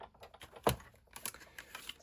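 Low tack tape pulled during paper crafting makes a single sharp click near the middle, with a few faint ticks and rustles around it, quiet and close.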